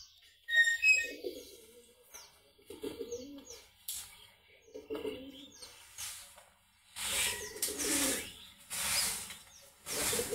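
Pigeons cooing nearby in repeated soft, throaty phrases, with sharp chirps and a burst of fluttering, flapping noise later on; no voices are heard.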